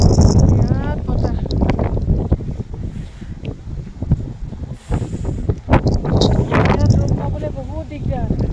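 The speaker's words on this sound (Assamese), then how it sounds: "বিৰাট বতাহ।" Strong evening wind in the town of Dawki buffets the microphone in loud, uneven gusts, heard under a person talking.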